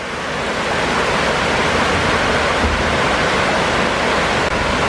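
Water pours steadily over the old stone weir at Oughtibridge, a dense continuous roar of rushing flow, close and unbroken with no voices.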